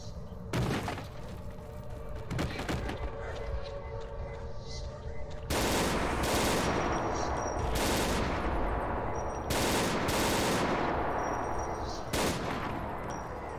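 Gunfire in the video game STALKER Anomaly, with several sharp loud shots and short bursts spaced across the clip over a rumbling game background.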